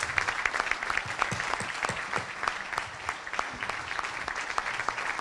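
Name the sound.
audience applause for the company and workers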